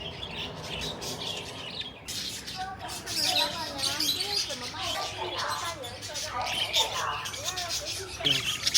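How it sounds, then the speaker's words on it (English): Many small birds chirp and twitter busily at close range inside a bird shop in China, with overlapping calls throughout and people talking in the background. "Oh, I didn't expect to see a bird shop on my way."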